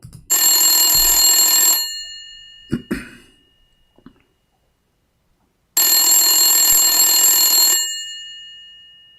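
An old landline telephone's bell rings loud and close in two long bursts separated by a pause, with a brief cough-like sound in between.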